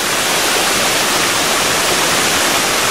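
A 50-foot waterfall roaring steadily, a dense, loud rush of falling water that fills the whole clip without a break.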